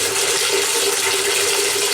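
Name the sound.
water running out as tank pressure is bled off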